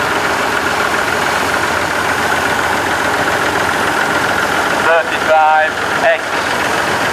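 A Massey Ferguson tractor engine runs steadily at idle, a continuous mid-pitched rumble throughout, with a brief sharper whine or squeal near the end.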